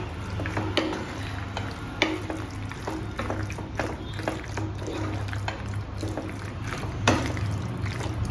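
Macaroni being stirred and mixed in a pan for an Indian-style cheesy masala pasta, with steady scraping and soft clicking strokes over a low continuous hum, fairly close and moderately loud.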